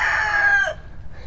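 One chicken in a small backyard coop gives a loud, close, drawn-out call with a falling tail, then quiets, leaving faint low farmyard noise.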